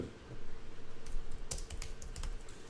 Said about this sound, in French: si je tape du texte